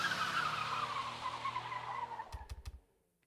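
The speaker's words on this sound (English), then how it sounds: "Sounds like cars." Cars approaching in the video game Nina Aquila Legal Eagle: a rising engine whine with tire squeal builds and fades, then a few sharp thumps close it out before quiet.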